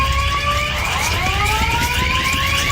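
A school fire alarm blares continuously, a loud electronic siren with steady pulsing tones that fill the space without a break.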